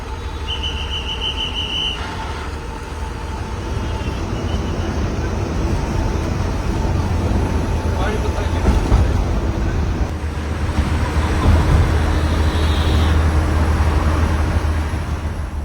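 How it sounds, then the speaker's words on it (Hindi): A passenger bus on the Delhi to Leh route pulls away after a half-hour stop. A low engine rumble builds gradually under steady wind and road hiss heard from inside. "आधा घंटा यहाँ रुकने के बाद अब हमारी बस आगे चलने को तैयार है।"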